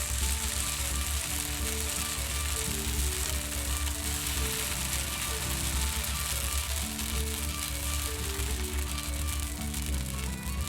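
Boxty potato pancake batter frying in a pan, a continuous close sizzle with faint metallic scraping, steady throughout.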